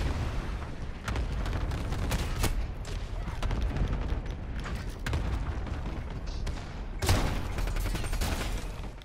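MK2 Carbine gunfire in a shooter video game rattles out in rapid, loud bursts of shots, with brief pauses between volleys and a heavier blast near the end.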